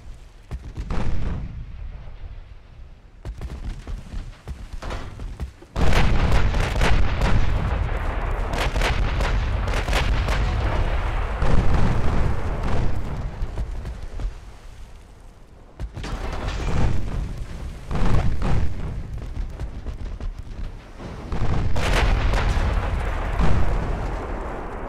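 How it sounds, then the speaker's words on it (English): Warship main and secondary gun salvos from the naval battle game Ultimate Admiral: Dreadnoughts boom loudly in repeated heavy volleys, sustained rumbling blasts lasting several seconds each, separated by brief quieter gaps, with no voices. "Fire secondaries on one and mains on the other for now."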